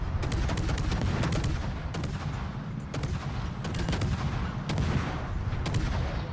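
Naval guns firing in the World of Warships video game, sharp loud salvos repeating at intervals of roughly a second over a constant low rumble of engine and sea, with no talk.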